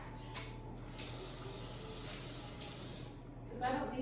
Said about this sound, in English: So I'm going to rinse my hands real fast